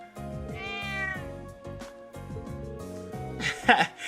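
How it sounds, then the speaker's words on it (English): A cat in the video game Trails of Cold Steel meows several times over game music, a short clear mew near the start and a brighter, louder one near the end. "Crow started playing with the cat."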